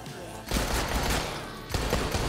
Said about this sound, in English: The handgun.